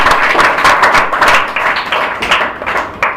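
Close, loud clapping from an academy audience welcoming a teacher, uneven pulses of hands striking together that swell and dip over a few seconds without speech.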